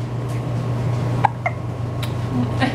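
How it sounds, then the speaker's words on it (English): A baby girl hiccups a few times over a steady low hum, each hiccup a short, sharp, close catch spaced about a second apart. "I swear she gets the hiccups like 20 times a day"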